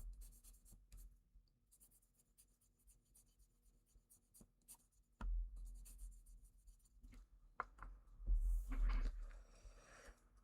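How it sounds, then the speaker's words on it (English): Pencils scratching and shading on paper that wears the leads down fast, soft continuous scraping strokes close up, growing louder and busier in the second half with brief bumps and handling noise. "I should not be using these pencils on this paper because it's eating the crap out of my pencils."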